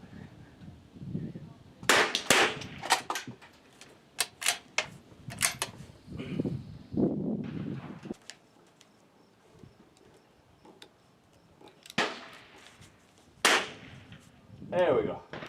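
Several sharp rifle shots from a CZ 457 at an outdoor shooting range, spaced irregularly across the stretch with quieter gaps between them, a few ringing out loud and close, with some low background rumble and movement between shots.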